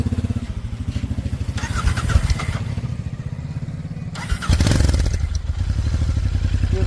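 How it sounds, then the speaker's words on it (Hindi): A Royal Enfield Interceptor 650 parallel-twin motorcycle with an aftermarket exhaust cranks and fires up, then settles into a loud, close, steady thumping exhaust note, with clattering mechanical noise during the start. "तो अब बात करेंगे बाइक के एग्जॉस्ट नोट के बारे में।"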